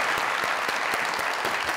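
Brief burst of close audience clapping on a comedy talk show set, dense and even, with a few sharper individual claps standing out.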